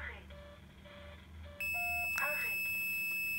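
A Diagral SA210 alarm siren gives a short confirmation beep, then a sustained high electronic tone close by, following faint room noise and a few quieter beeps.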